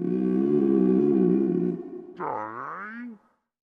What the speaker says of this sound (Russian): Урчит. В животе.